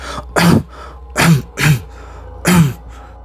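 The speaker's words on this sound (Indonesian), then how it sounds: "batuk keras sekali" Four loud, harsh coughs come in an uneven series, close up, separated by brief pauses with faint background hum.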